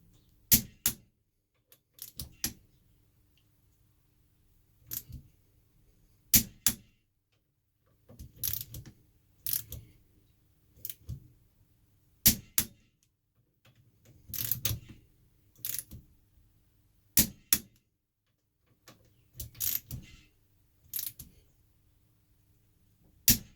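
A torque wrench clicks as it tightens head bolts on an Interpump W3523 pump manifold, sharp metallic clicks arriving in short clusters every two to three seconds, with quieter handling noise between them.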